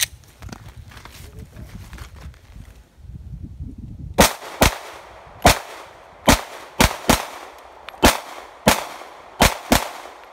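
A Glock 19 pistol fires about eleven sharp, loud shots in an uneven rapid sequence, following a few seconds of low handling noise.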